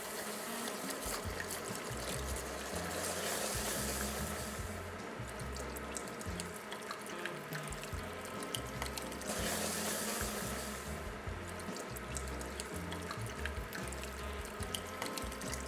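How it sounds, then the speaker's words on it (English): Ice water pours steadily into a pot of dark roux for gumbo, a continuous splashing trickle with faint clinks, close and even in level. "Now we add our water."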